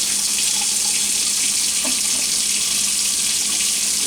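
Steady hiss of tap water running into a sink as it warms up, close and continuous for the whole stretch, with a faint clunk midway.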